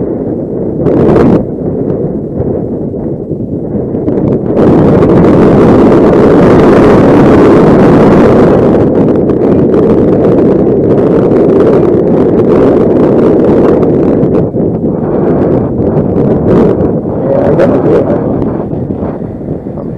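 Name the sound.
strong wind blowing into microphone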